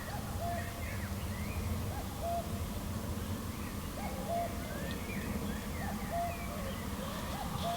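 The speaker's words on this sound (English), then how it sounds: "Cuckoo." A cuckoo calls repeatedly at a carp fishing lake, Les Teillatts, giving a regular two-note call every couple of seconds. It sounds faint and distant over a constant hiss of outdoor background noise.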